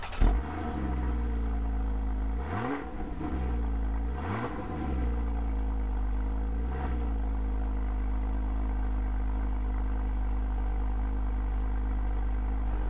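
A 2013 Porsche Boxster S engine drones steadily on an open road, with three rising revs surging early as it accelerates through gears, then settling into a smooth, even cruise from inside the car.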